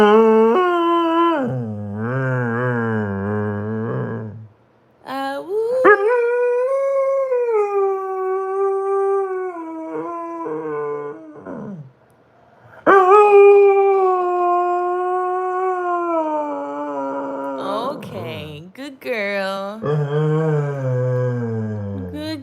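A sleepy female puppy howls in long, wavering awoo calls, several drawn-out rising and falling howls with brief pauses between them, close and loud with no talking.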